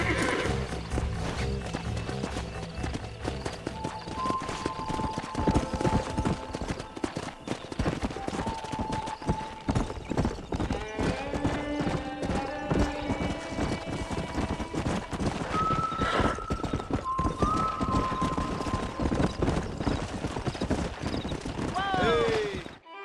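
Horse hooves clopping steadily and repeated neighs and whinnies from a stallion in the video game Red Dead Redemption, loud and close over a continuous dense backdrop, with someone talking through parts of it.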